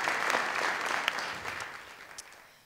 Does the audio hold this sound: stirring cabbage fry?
no